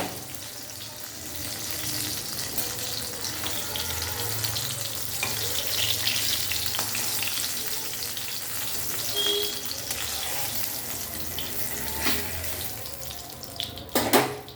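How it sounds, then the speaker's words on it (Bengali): Brinjal pieces fry in a pan with a dense, continuous sizzle that stays loud and even throughout, with a few soft kitchen clatters near the end. "বেগুনটা দিয়ে দিয়েছি, বেগুনটা ভাজা হচ্ছে, ভাজা হোক।"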